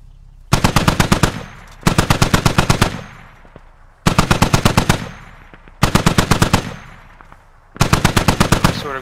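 Machine gun fire in a squad-based military video game, five loud, evenly spaced bursts of rapid shots, each about a second long with short pauses between, close and alone.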